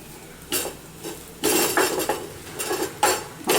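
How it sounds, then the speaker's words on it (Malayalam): Garam masala curry with curry leaves being stirred in a pan, several distinct bursts of a metal spoon scraping and knocking against the pan, separated by quieter pauses with a faint sizzle beneath; no talking. "മസാല ഇട്ട് ഒരു 2 മിനിറ്റ് നല്ലതുപോലെ ഇളക്കണം"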